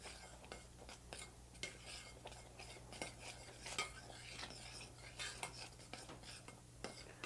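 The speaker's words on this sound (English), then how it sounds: "Just keep stirring it till the lumps go away." A spoon stirs melting cheese mixture in a pot, giving soft, steady scraping and clinking strokes in a quiet, close, repeating rhythm with no talk.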